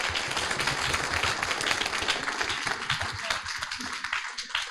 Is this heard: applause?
yes